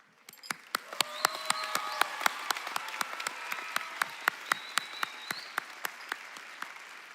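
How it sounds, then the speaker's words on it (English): Applause from the crowd at a high school graduation ceremony, dense steady clapping over several seconds with a few sharp individual claps standing out near the front. "giving a big round of applause to both the students who have come this far and the parents who have supported them along the way"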